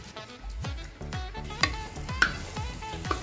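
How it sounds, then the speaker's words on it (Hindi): Yogurt stirred into sizzling masala in a pot on a low flame, with repeated scraping stir strokes about every half second over a steady frying hiss and a few sharper clinks, close and alone without talk. "दही डाल के हमने इसको जल्दी जल्दी अच्छे से मिक्स करना है"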